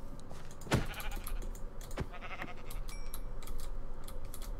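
Sheep bleating in Minecraft, a couple of short, wavering bleats up close over a steady background of game noise and faint clicking.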